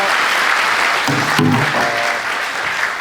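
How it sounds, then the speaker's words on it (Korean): Loud, dense applause from an audience greeting performers after a Korean concert piece, continuous and close, with brief voices rising through it midway. "우리 김수민 선생님, 선희 선생님께 큰 박수 한번 부탁드립니다"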